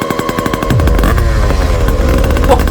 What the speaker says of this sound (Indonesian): Lu naik motor brutal amat